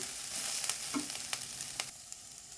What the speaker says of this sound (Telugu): బాగా కలిపేసి స్లో ఫ్లేమ్లో ఫ్రై చేద్దాము.